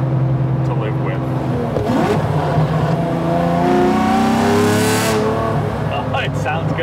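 Lamborghini Diablo SV V12 engine and exhaust revving from inside the car on the road, rising and falling as it downshifts and accelerates, loud and close, with someone talking over it.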